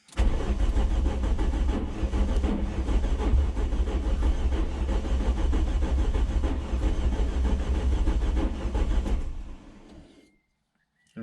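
Semi-forged 3.0 engine firing up for the first time, running loud and rough with a suspected wrong firing order, a steady heavy rumble for about nine seconds before cutting off into silence.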